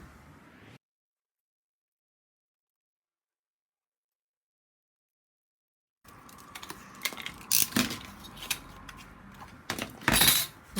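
Scrap cardboard being cut for a small craft roof, heard as a burst of scratchy, crackling snips and rustles after a long stretch of silence, close and moderately loud.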